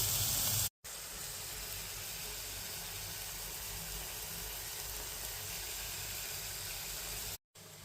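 Onions sizzling in a hot pan on top of thinly sliced pork, giving a steady, close, even hiss that runs throughout, with two brief cuts to silence.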